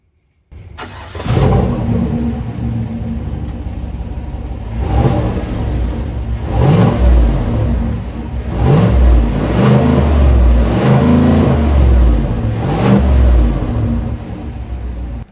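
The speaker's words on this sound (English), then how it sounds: "let's go ahead and listen to this V8 sing" A 2025 GMC Sierra Denali Ultimate V8 revs loudly through a catback exhaust, rising in repeated throttle blips over a steady deep idle for about fifteen seconds, with no talking.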